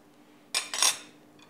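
A spoon clinks and scrapes against a pot while about a teaspoon of sesame oil is stirred into a kimchi beef hotpot, a short metallic burst in an otherwise quiet kitchen.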